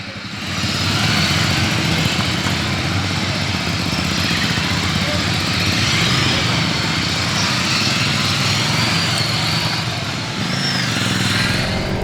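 A 2023 Ducati Scrambler 800 Next-Gen motorcycle engine drones steadily and loudly while riding, a continuous close rumble with wind noise, briefly dipping near the end; a rider talks over it.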